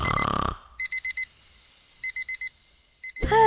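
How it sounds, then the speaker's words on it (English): An alarm clock in the Roblox video game goes off in short bursts of paired electronic beeps, sounding in three clusters close and clear against near silence, with a snoring-like noise before and a rising tone at the end. "Oh, the alarm's going off already?"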